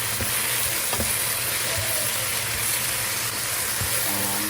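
Pork collar and vegetables including cabbage, chive and black fungus sizzle and hiss steadily in a hot pan, with occasional clanks and scrapes of stirring, close and continuous with no talk.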